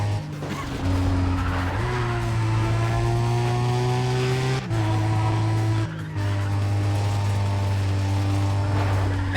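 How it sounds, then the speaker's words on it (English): Sustained, loud race-car engine in Need for Speed ProStreet, revving steadily upward and dropping in pitch at clutch gear shifts twice, with tire squeal texture throughout and no talking. "this car sounds awesome shifting it with the clutch"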